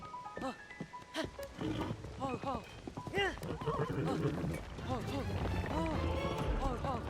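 Horse hooves clop and a horse neighs in Tears of the Kingdom, with repeated whinny calls over steady hoofbeats while someone talks throughout.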